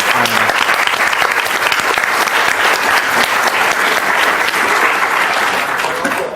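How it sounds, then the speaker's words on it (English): Strong, continuous applause from a conference audience at a robotics law event, thick even clapping for the full stretch with a slight taper near the end. "One more round of applause for Emily."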